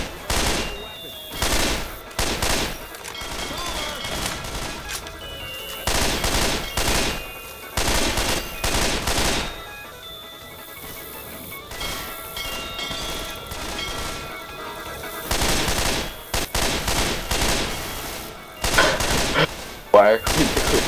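Heavy gunfire in Left 4 Dead 2 comes in repeated loud bursts of rapid automatic shots separated by short lulls, close and dominant throughout, with a few scattered bangs and clatters between volleys.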